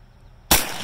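A single gunshot aimed at a self-healing target material goes off sharp and loud after a quiet moment, followed by a short ringing decay outdoors.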